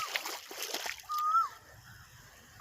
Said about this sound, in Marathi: बघा हे पाणीच बंद होत नाही